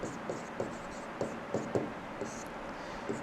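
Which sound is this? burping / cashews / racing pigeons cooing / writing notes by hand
writing notes by hand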